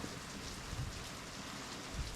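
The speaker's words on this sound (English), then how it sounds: "let's let the rain do its thing" Steady rain falls outdoors on a rural property where an old 1972 Malibu sits, a continuous soft hiss of drops on surfaces with a few heavier patters, no voices.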